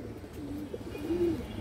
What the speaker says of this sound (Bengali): এই যে দেখেন মাদিরা পাথর চোখের কবুতর।